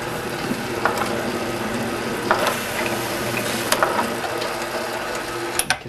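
An Advent 300 labeler applies a label to a 1-gallon jug, giving a steady mechanical whir with ratcheting clicks and a few sharp taps near the end.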